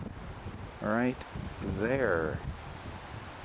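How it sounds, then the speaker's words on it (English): Strong gusting wind at Banff roars and buffets close to the microphone in a steady rush, while a person speaks briefly over it. "it's so windy it's knocking my hat off"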